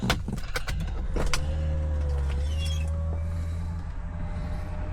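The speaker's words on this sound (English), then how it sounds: "Put the windows down a bit." Electric power windows lower on a 2000 Ford Mustang convertible inside the car, a few sharp clicks followed by a steady whining motor hum over a low idle rumble, close and fairly loud.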